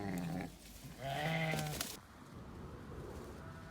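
Sheep penned up to wait for the shearer bleat in two or three loud, wavering calls close by, the last breaking off sharply, followed by quieter shuffling and background noise.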